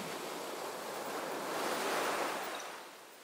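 Sea waves wash in a steady broadband rush that swells to a louder surge near the middle before easing back, with no voices.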